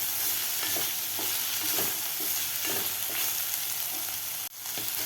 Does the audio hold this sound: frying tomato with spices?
yes